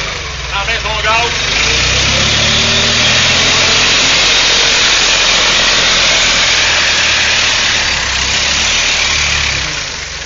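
A Clark dual-wheel forklift with a cab, its engine idling after sitting unused all winter, holds a steady, loud, rough rumble throughout, with a brief rising whine early on and someone talking over it.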